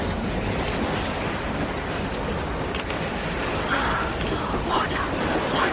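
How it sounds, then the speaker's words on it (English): Steady roaring blizzard wind in Metro Exodus, with a dense, hissing rush that never lets up, like a howling storm blowing constantly. "Now that's what I call a blizzard!"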